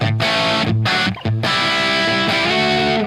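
A Telecaster electric guitar plays through a PROTO2 amp with heavy distortion, loud sustained chords and notes with a few brief choked gaps, alone with no talking.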